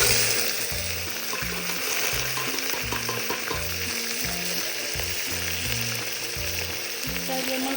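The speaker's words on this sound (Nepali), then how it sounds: "जिरा फुराइसकेपछि हामीले हाल्छौँ प्याज।" Chopped onions fry with cumin in oil for veg biryani, a steady close sizzle with faint spoon stirring, while a low rhythmic musical pattern plays underneath throughout.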